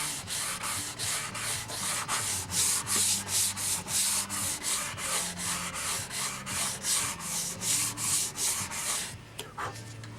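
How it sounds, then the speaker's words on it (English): Steady back-and-forth rasp of sandpaper on a wooden plane, loud and rhythmic, strokes repeating about twice a second before stopping. "In the middle of sanding out this plane."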